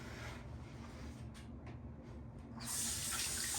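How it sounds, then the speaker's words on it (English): Running water from a sink tap splashes steadily as a face is rinsed after shaving, faint and close, with the flow growing stronger toward the end. "Now I'm gonna get some water and just wash off my face."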